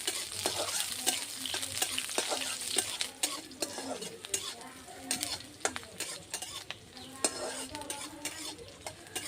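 Onions and green chillies fry in mustard oil in a pan, a steady close sizzle with repeated scraping stirs of a utensil against the metal throughout.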